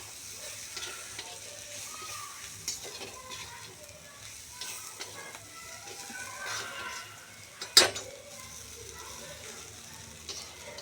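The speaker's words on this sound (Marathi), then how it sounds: "याला पण चांगलं हलवून घ्यायचं" Spinach with turmeric and garam masala is stirred in a pan for lahsun palak, with soft sizzling, scraping and clinking of the utensil and a sharp knock partway through.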